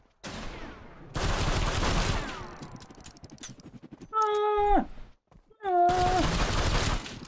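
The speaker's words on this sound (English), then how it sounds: "the musket takes so much frickin' ammo" Musket shots ring out in the video game Horse Drifters, coming as several loud, separate blasts with short pauses between them and brief tonal game or voice sounds in the gaps.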